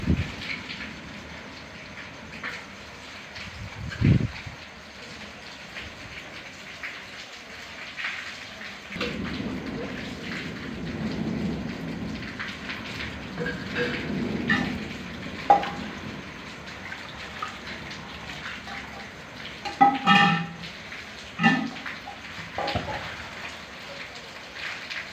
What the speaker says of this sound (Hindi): आज फिर से गांव में ज़बरदस्त बारिश शुरू हो गई है।